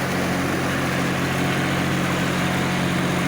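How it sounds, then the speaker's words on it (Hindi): Three-cylinder John Deere 5310 tractor engine with power steering running steadily nearby, a constant loud drone with no talk over it. "ये देखो जी, लोड फ्री ट्रैक्टर है बिल्कुल, 3 सिलेंडर के साथ में, पावर स्टीयरिंग में।"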